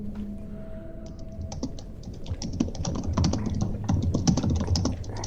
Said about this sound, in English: Someone is typing fiercely.